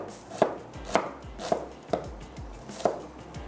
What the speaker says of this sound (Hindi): हम एक अदद दरमियाने साइज़ की प्याज को कट